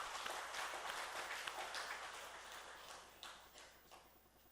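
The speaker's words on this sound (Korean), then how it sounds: "박수 한번 칩시다." A church congregation breaks into applause during a Sunday service, a dense wash of clapping that fades out gradually over a few seconds.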